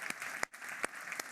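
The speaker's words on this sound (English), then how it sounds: "could we give them a round of applause," An audience applauds a production company at a 2021 innovation expo in South Dakota, with a fairly faint, steady patter of clapping broken by a few sharper, louder claps.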